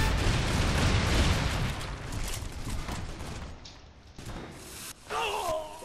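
Gunfire in the video game Warface plays as dense, loud overlapping shots and booms that thin out midway, followed by a short burst of tonal game sounds near the end.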